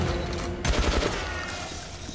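A brief burst of gunfire erupts in the Metro: Last Light video game, a dense fusillade of shots for about half a second amid tense in-game action, loud and close over a low rumbling backdrop.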